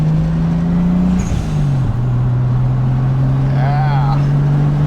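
A Toyota Supra with a 7M engine and turbo boost drives in second gear. Its loud, steady engine drone holds one pitch, dips briefly as the revs settle, and then holds again, with a short voice fragment near the end.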